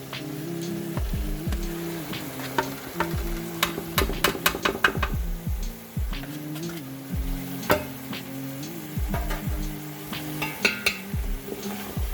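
Spices frying in a pot for a turnip and meat curry, with a steady sizzle broken by frequent clinks and scrapes of a spoon against the metal, close up and with no voices.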